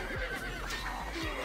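A horse neighs loudly in a short whinny with a faint clip-clop of hooves, from horse archers in the Stronghold Crusader video game.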